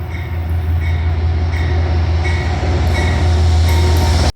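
An Amtrak passenger train with a P32AC-DM locomotive rumbles loudly and steadily nearby at Orlando station, with a deep engine drone and rhythmic clicks from the wheels as it pulls in.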